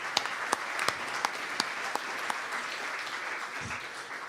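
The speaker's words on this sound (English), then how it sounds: "Another round of applause." Audience applause at a folk music awards ceremony, a steady wash of many hands clapping at moderate distance with a few sharper individual claps standing out, no talking.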